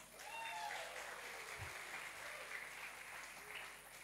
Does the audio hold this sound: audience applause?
yes